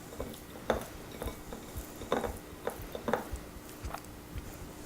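A utensil mixes feta cheese with freshly chopped oregano in a bowl, making a quiet, irregular series of clinks and scrapes against the dish with soft stirring in between, and no one talks.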